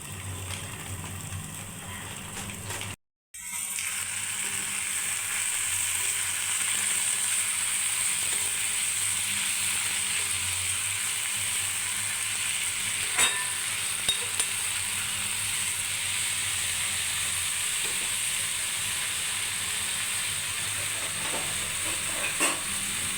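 Drumstick leaves (munagaku) fry in a pan with a steady, close sizzle that runs the whole time, with a short drop near the start and a few faint clinks of stirring.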